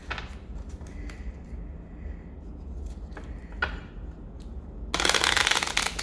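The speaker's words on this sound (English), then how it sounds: "it is a small deck and very easy for me to shuffle because of that" A small deck of cards is handled with a few soft clicks and taps, then riffle-shuffled in one quick, loud, fluttering burst near the end.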